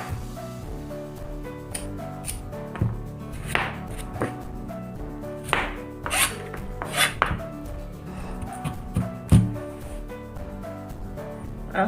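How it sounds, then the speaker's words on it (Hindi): Knife chopping through a guava on a cutting board at home, a series of irregular crisp thuds and clicks, close and fairly loud, with soft pauses between cuts and a faint clink of a plate. "एक अमरूद भी काट लेती हूँ।"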